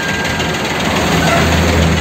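Hino RK 280 ABS Euro 4 bus passing on a busy road near Linggapura market, a loud, low engine rumble and road roar that builds steadily over a couple of seconds.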